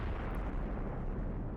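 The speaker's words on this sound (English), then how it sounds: "Our mortars are still slowing the enemy assault," Mortar shells explode in the video game Graviteam Tactics Mius Front as a continuous low rumbling roar of blasts, heavy and steady throughout, with no distinct individual impacts.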